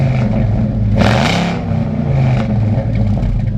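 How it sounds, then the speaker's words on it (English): Black Ford Foxbody notchback engine revs up and falls back, a loud, close roar with rising and falling pitch over a rough idle. "Now, rev it up some more."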